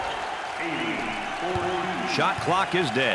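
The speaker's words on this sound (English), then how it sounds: "Listen to the crowd." Arena crowd roaring at a college basketball game between Rice and Houston, a sustained loud wash of cheering with shoe squeaks and a bouncing ball, while a commentator talks over it.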